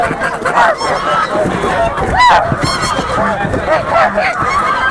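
A flock of geese honk repeatedly and overlap in a busy, loud chorus at a poultry market, with people's voices mixed faintly into the crowded din.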